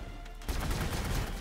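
Gunfire in the strategy game Warhammer 40k: Gladius with Astra Militarum units, a sudden dense burst of rapid shots kicking in partway through and continuing steadily to the end.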